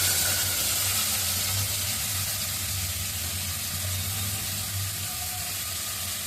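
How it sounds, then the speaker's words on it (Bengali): Chopped carrot, potato and onion frying in hot oil in a pan, a steady loud sizzle and hiss that holds evenly throughout with a low hum underneath. "আর এদিকে পাইপেনের তেলটা দিয়ে দিচ্ছি, তেলটা দিয়ে সবজিগুলো আগে ছেড়ে দিই"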